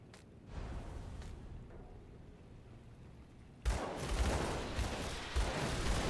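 Explosive gunfire with area-effect blasts in the action RPG Grim Dawn, a dull rumbling barrage that gives way to a loud, dense cluster of bursts and booms in the second half.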